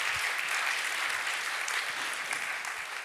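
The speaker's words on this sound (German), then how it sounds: "Wollen wir ihm trotzdem Applaus schenken?" An audience at the Jugend forscht regional science competition award ceremony in Augsburg gives a short burst of applause, a dense, even patter of many hands clapping that fades slightly at the end.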